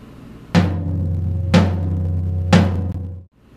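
Three strikes on low-tuned tom drums, about one second apart, each one booming and resonating with a long sustain before the sound stops.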